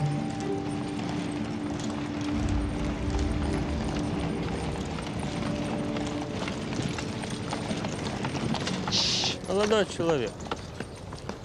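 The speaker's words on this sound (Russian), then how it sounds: "это у вас что, кобыла, конь?" A horse's hooves clip-clop along a street beside people talking in Russian, the steady clopping running under the voices, with a high squealing burst near the end.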